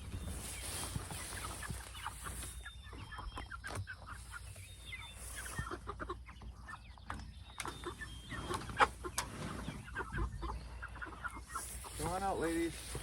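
Hens in a chicken tractor on fresh grass clucking softly and intermittently at close range, with scattered small rustles and a few louder squawks near the end.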